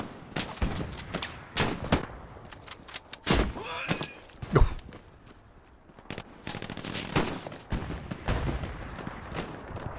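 Rapid bursts of gunfire and explosions crackle in irregular volleys, some sharp single shots, fairly close with a few quieter gaps, from a competitive match of the video game Hell Let Loose.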